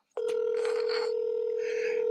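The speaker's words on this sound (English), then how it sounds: "Let's see if she'll pick up the phone." A steady telephone dial tone sounds loud and alone for about two seconds as a call is placed, with faint background noise above it.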